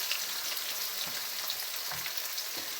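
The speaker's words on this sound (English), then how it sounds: "That means we're ready to drop in our onions, which is what I'm just going to do next" Onions frying in hot oil with mustard seeds for a curry sauce, giving a steady, fairly faint crackling sizzle with a few soft stirring knocks and no talking.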